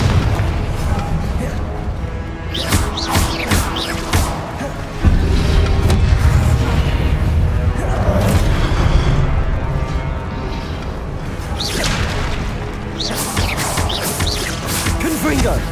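Booming blasts of the Confringo fire spell in the Hogwarts Legacy game, repeated loud explosive bursts amid dense combat effects and music, with shouted spell voices over the top.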